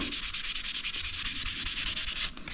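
Fast rhythmic scuffing of 1200 grit sandpaper on a Honda CRF 300L motorcycle frame, close and steady back-and-forth rubbing strokes that stop just before the end.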